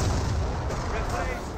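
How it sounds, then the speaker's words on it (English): Flak 8 anti-aircraft gun firing in the strategy game Company of Heroes, a dense low rumbling boom of battle sound that stays loud and steady for the whole short stretch. "As the Flak 8 starts firing up north"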